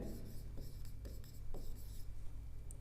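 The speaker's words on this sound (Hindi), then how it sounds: "यहां लिख देता हूं" Marker or pen scratches across a board as English example words are written out by hand, a run of short dry strokes over a steady low hum, close by with no talk.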